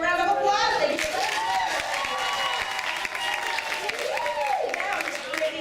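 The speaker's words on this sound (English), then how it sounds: "Give her a round of applause." Audience applause for a performer at a live Jetpack Jenni science show, a steady wash of many hands clapping that fills the room, with speech-like tones and a voice rising over the clapping.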